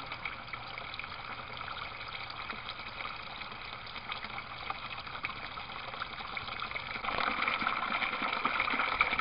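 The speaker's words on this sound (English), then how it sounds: "you can see the water starting to flow out the end of the pipe" Water gushes from the end of a U-siphon pipe into a bucket in an aquaponics setup, a continuous bubbling splash that grows louder and fuller toward the end.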